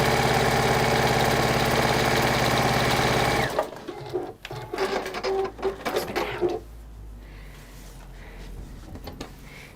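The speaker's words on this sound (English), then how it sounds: "I'm doing the side stitching now." A sewing machine runs steadily at speed stitching the side seam of fabric, a loud continuous mechanical whir that stops after a few seconds, followed by a few short bursts and handling noises.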